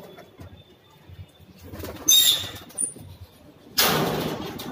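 Pigeons flap their wings as they come down to water, with a couple of sharp bursts of fluttering and a final longer flurry over quiet background and faint coos.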